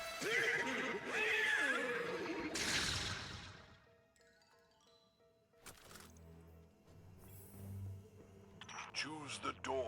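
A horse whinnies loudly in a long, wavering neigh, then the sound drops to quiet rustling before a second, shorter neigh rises near the end, with speech mixed in.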